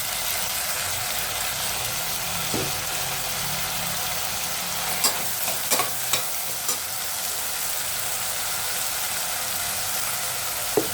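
Field beans (avarekalu) fry in a little oil in a pan with chopped tomato, giving a steady soft sizzle with occasional sharp clicks of a spatula against the pan, no talking.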